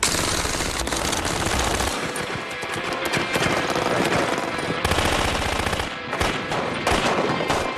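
An IAR automatic rifle firing 5.56 rounds in long, continuous bursts, loud and close, with dense rapid reports filling the whole stretch and no talking.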